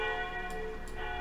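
Bells ring on in the OMSI 2 bus simulator along a London route, a steady sustained chime with a couple of soft fresh strikes layered over the lingering hum, heard alone.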